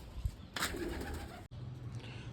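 A pigeon gives a soft, low coo nearby, with some light rustling and a sharp thump in the middle.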